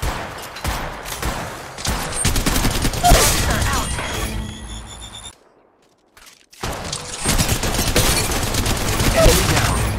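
Rapid automatic gunfire from the mobile shooter game Apex Legends Mobile rattles in dense, loud bursts with game sound effects, breaking off into near silence for about a second before the firing resumes.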